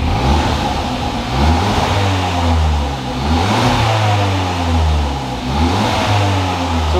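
Hyundai i30 N-Line with an Xforce catback exhaust, valve closed, revs repeatedly: loud, close engine blips rising and falling in several waves over a steady deep exhaust burble, no crackles or pops.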